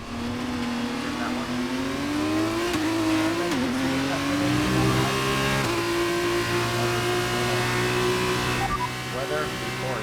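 An F2 race car engine in the F1 23 racing game screams at high revs, its pitch climbing through gears with brief dips at shifts, loud and continuous over a wheel-to-wheel battle with light talk.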